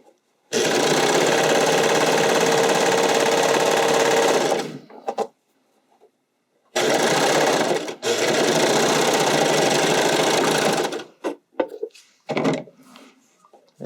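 A sewing machine zigzag-stitching elastic onto a stretch bodysuit: two loud, steady mechanical whirring runs of several seconds each, separated by a pause, followed by brief clicks and handling knocks, close up with no talking.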